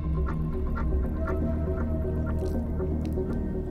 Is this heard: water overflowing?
yes